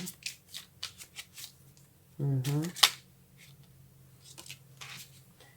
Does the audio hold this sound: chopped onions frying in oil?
no